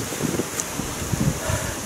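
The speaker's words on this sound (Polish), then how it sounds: "znowu się wiatr nasilił" Wind buffets the microphone at a fishing session in a steady low rumble with gusty thumps, fairly faint, with no voices.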